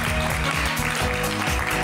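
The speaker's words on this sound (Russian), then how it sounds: "Аплодисмент." Brief burst of studio audience applause, dense and loud clapping for just under two seconds.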